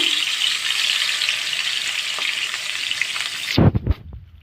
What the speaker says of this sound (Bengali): তো মাছগুলো ভাজা থাকুক